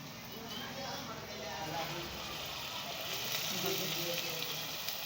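Onions with spice paste frying in a pan, making a steady, close sizzle that runs without pause.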